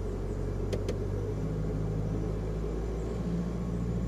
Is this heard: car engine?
yes